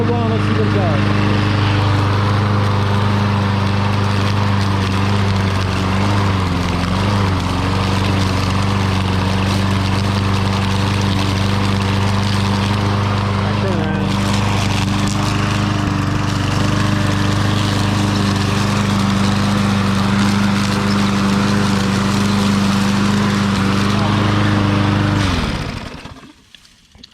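An old lawn mower engine with an automatic choke runs steadily at a loud, close, constant drone for about 25 seconds, then cuts out and winds down abruptly at the end.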